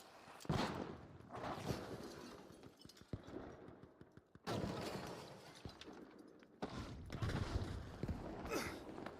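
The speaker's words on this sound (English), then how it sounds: "Tossing a flashbang." A flashbang grenade goes off in a shooter video game amid gunfire, several sharp bursts and booms with ringing tails spread across the clip, fairly quiet overall.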